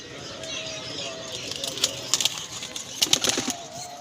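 Paired pigeons coo softly in bursts over a low background hum, with several sharper chirps and rustles clustering in the second half and faint voices nearby.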